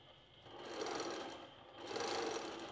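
A longarm quilting sewing machine stitches fabric in two swelling bursts, whirring nearby, with a short easing-off between them.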